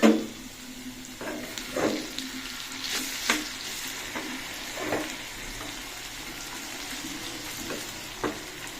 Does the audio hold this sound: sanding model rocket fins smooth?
no